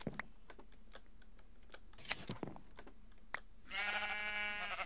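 A sheep bleats near the end in the Minecraft video game while wool is being sheared, following a run of sharp keyboard-like clicks and taps; the bleat is clear and fairly loud against a quiet background.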